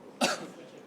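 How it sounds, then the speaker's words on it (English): A single short, sharp cough from a player during an ESL Pro League Counter-Strike match, faint and picked up over a headset, fading into quiet afterward. "There's some coughs coming through from the king"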